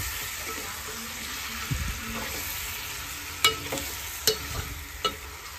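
Chicken being stirred in a frying pan for a curry, a steady sizzle with several sharp scrapes and clinks of a spoon against the pan, close and without talk.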